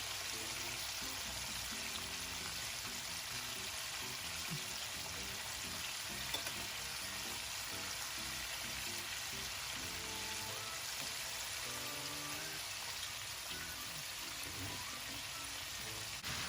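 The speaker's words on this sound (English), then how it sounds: "As you could see, it's frying." Steady, dense sizzling of chicken wings frying in hot oil for Jamaican fried chicken, a continuous crackling hiss that stays even and close throughout with no talking.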